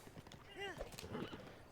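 Horse in The Legend of Zelda: Breath of the Wild: quick hoof clip-clops under a short, rising whinny-like call, close and moderately loud over a faint game background.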